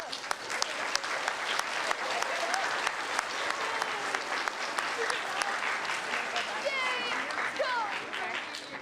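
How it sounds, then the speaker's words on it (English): Audience clapping at an elementary school sixth-grade moving-up ceremony: a steady, dense round of applause lasting the whole stretch, with voices and scattered cheers mixed into the crowd noise. "nice round of applause"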